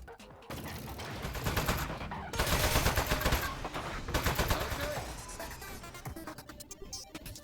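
Rapid automatic fire from a toilet turret in a video game, loud sustained bursts of shots rattling for several seconds before tapering off.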